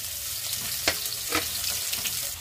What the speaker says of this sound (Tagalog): Lagay na natin ang bawang at sibuyas.